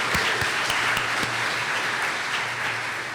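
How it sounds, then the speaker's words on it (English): An audience applauds steadily, a dense wash of clapping from many hands that holds throughout. "So round of applause"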